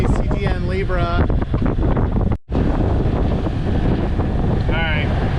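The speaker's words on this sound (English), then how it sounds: "Alright, wind's coming up a little bit." Strong wind buffets the microphone aboard a sailboat motor sailing with staysail and main up, a loud continuous roar with a brief dropout midway, as a person speaks over it.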